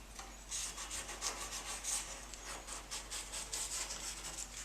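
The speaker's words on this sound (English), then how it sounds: "let's give it just a light sand." Light hand sanding of a stand-up paddleboard tail: a run of soft, rhythmic rasping strokes, close and fairly quiet, with no voices.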